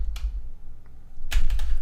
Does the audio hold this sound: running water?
no